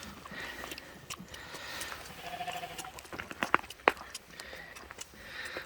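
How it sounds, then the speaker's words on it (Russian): Sheep bleating, a ram among the farm animals, heard as a few short bursts mid-clip over quiet outdoor background noise, with faint rustling and possible footsteps. "Баранище у него."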